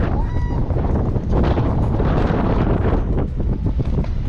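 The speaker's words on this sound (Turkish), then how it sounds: "Gürültüye bak ve nasıl rüzgar esiyor." Strong, steady wind of a storm at sea roars and buffets the microphone aboard a sailboat in a constant broadband rush, with a hint of rigging and water noise beneath.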